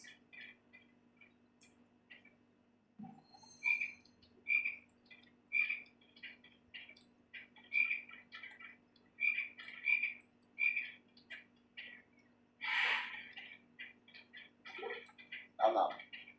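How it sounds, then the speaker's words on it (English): Chocolate frog in a Harry Potter video game croaking in a steady series of short, bright calls about once a second, over a low constant hum with a few other game noises. "You have to knock the frog out before you can catch it."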